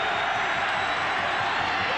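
Football stadium crowd at a 1996 Georgia Tech versus Clemson college game, a steady broad roar of cheering spectators rising to their feet, dense and continuous throughout with no clear gaps.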